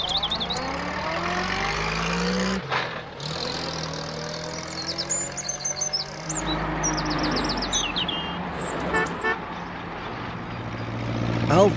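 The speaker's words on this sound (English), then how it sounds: "Alf was out on his tractor." A tractor engine chugs steadily on a country road, loud and continuous, with small birds chirping and tweeting over it, no talk.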